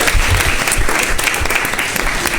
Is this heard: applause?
yes